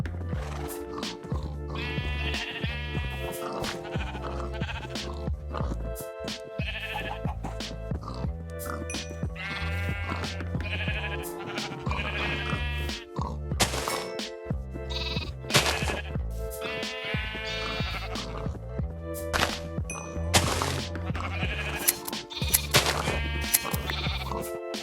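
Sheep bleat repeatedly in Minecraft, several overlapping cries spread across a steady loud game music backdrop, with occasional thuds and clicks from play.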